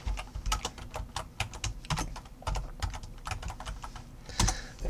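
Rapid, steady typing on a computer keyboard, close up, with dense clicking keystrokes and a few heavier thumps mixed in, running the whole time with no talk.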